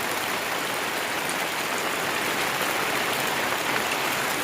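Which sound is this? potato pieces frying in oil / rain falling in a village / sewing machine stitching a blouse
rain falling in a village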